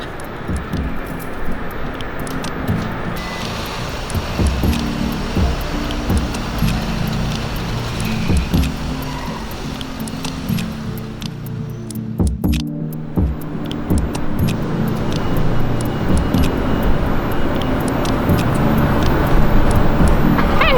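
A Scion car drives along with a steady interior road rumble. Small clicks and rattles come and go throughout, and no one speaks.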